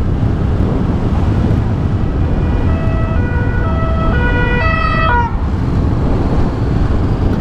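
Police sirens wail during a chase, rising as a stepped tonal sweep over steady heavy wind roar from a moving motorcycle, then cutting off abruptly.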